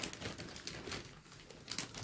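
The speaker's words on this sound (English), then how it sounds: "Sorry about the rustling bag." Plastic shopping bag crinkling and rustling close by, steady crackly handling throughout with sharper crinkles near the end, no voices.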